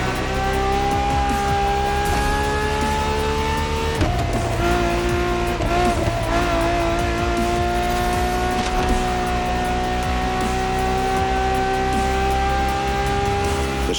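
A Ferrari V12 supercar with hybrid technology races in The Crew Motorfest, its engine holding a loud, steady high-revving note for the whole stretch, with a brief gear change or tire scrub partway through.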